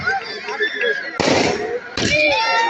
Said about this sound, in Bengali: আতশবাজি চলছে, আকাশে রঙিন আকাশে আতশবাজির ফোয়ারা